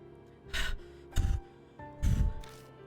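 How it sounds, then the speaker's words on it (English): Character gasping for breath in the video game Spirit Hunter: Death Mark, three sharp ragged gasps spaced about a second apart over a low, quiet ambient hum, with no talking. "The only sound that can be heard is our gasp for breath as we sit in the darkness."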